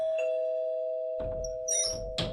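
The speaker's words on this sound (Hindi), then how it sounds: "डोरबेल बजी।" A doorbell chimes with a sustained electronic tone, accompanied by a few nearby knocks and rustling sounds.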